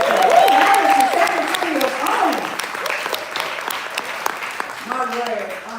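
An audience at a poetry evening claps in sustained, dense applause from start to finish, loud and close, with a voice speaking over it.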